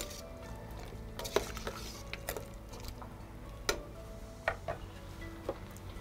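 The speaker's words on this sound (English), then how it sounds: "With this, I'll stir it" A pot of peppered soup with ginger is stirred, giving quiet, scattered clinks and taps of a utensil against the pot over a low background hum.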